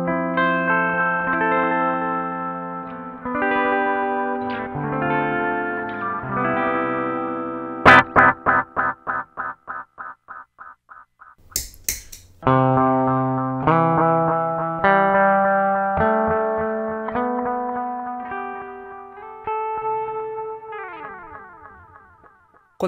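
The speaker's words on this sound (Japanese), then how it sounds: "返ってくる音が解像度のちょっと荒い劣化した音といいますか、アナログディレイならではのですね、高い音が返ってくる印象です" Guitar through an Ibanez ADMINI analog delay pedal with every knob at noon, a loud distorted tone with clear repeating echoes after picked notes and chords, and a short burst of noise partway through before the phrases resume.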